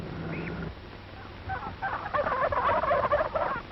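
Turkey gobbler on a farm gobbling, a rapid warbling burst that builds after a few quieter calls, loud and close with no talk.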